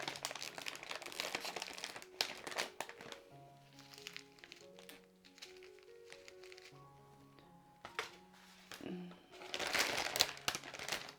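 Plastic bags of diamond painting drills crinkle and rustle in bursts as they are unpacked, with tiny beads rattling and a person speaking quietly in German.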